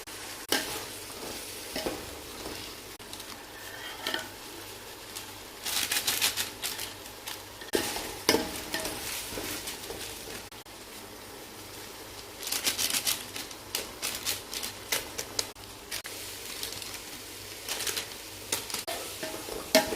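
Garlic paste frying in a pan, with bursts of hissing sizzle and stirring scrapes coming and going over a steady kitchen background, no talking.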